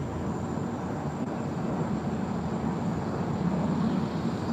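A distant airplane roars steadily at Chicago's airport, a broad, constant whooshing drone that stays fairly faint with no talking.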